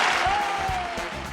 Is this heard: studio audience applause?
yes